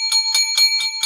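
A bell rings five times in a quick, even rhythm, each bright metallic strike close and clear, with no voices over it.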